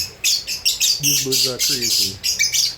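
Busy high-pitched chirping and squawking from several lovebirds close by, with a low voice-like murmur in the middle.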